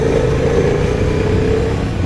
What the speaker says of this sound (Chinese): 大概4000转的时候就一个动力爆发，这个回油放炮还挺严重的